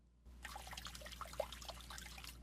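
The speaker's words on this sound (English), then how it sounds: "Dripping water." Soft, continuous water trickling and dripping with scattered small droplet plinks, fairly quiet and steady throughout, with no voices.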